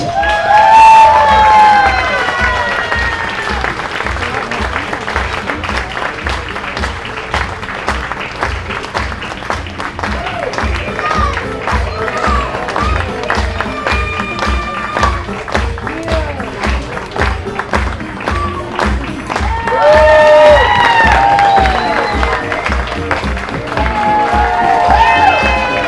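Audience applause and cheering fill a gala hall after a fencing skit by a Korean athletic fencing troupe, steady dense clapping with whoops and shouts swelling near the start and again near the end, lasting throughout.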